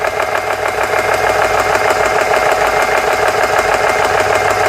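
A Honda GX engine on a CS3 compressor runs steadily while warming up after repair, a close, continuous mid-pitched drone with a fast, even knocking pulse and no breaks.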